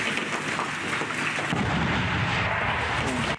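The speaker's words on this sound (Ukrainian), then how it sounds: "Заряджаю! Постріл!" Heavy booming blasts of artillery guns firing at the front, with a deep rumble that rolls on continuously, loud and close, with no voices.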